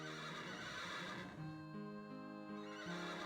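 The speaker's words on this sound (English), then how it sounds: "I'm helping with those dang horses." Horse neighing and whinnying from the 1997 PlayStation game Wild Arms, a loud synthesized whinny with layered tonal steps over about three seconds, with no talk.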